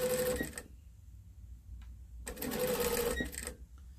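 A sewing machine stitches a fabric memory bear made from Simplicity pattern A2115, running straight across the seam at the bridge of the nose in two close, loud bursts of rapid mechanical whirring separated by a quiet pause.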